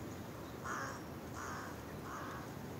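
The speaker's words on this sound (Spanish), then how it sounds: "escuchar los pájaros, las aves, lo que pase por aquí" Crow caws ring out three times at a steady, unhurried pace, each a short harsh call over faint steady outdoor background noise, somewhere on a walk home with birds around.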